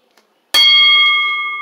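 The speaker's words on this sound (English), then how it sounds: "Bell ring and the match starts now." A wrestling ring bell rings once, loud and close, with a sharp strike followed by a long sustained metallic tone that slowly fades, signaling the start of a women's Knockouts championship match.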